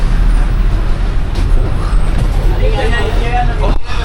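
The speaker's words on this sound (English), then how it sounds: "We got on another bus to Nalatanya." A bus ride in Sri Lanka, with a continuous loud engine drone and road rumble, rattles and shifting noise throughout, and voices faintly mixed in.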